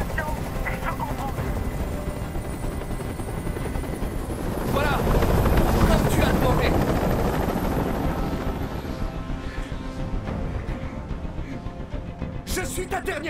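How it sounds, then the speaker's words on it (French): A hovering helicopter in the Detroit: Become Human video game gives a loud, steady rotor roar that swells to a peak midway and then holds, with bursts of game sounds and faint talk layered on top. "Je peux plus supporter ce bruit. Fais dégager cet hélicoptère,"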